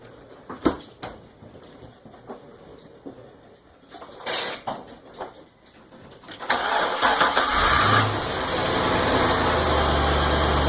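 An overhead-valve, fuel-injected V8 car engine of 405 horsepower with two valves per cylinder cranks after some handling clatter, catches and fires up, then settles into a loud, steady idle close by.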